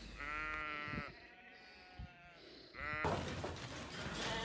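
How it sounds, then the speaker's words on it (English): Sheep and lambs bleat inside a farm shed in the Peak District, overlapping calls rising and falling, close and loud, with a louder jumbled burst of bleating toward the end. "we could bring all of the sheep and lambs in and use the sheep race to worm the ewes."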